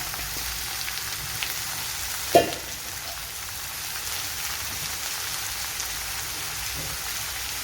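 Chopped bitter gourd fries in a pan, a steady even sizzle like light rain that holds throughout, broken once by a short sharp clatter.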